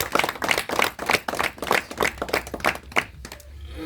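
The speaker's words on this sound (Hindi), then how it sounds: "तालियां" An audience at a live music stage show in Jharkhand claps in a quick, uneven burst of distinct hand claps that tapers off after about three seconds.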